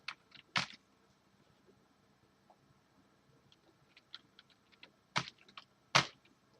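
Computer keyboard typing close by, in short scattered bursts of crisp clicking keystrokes separated by quiet pauses, with no talking.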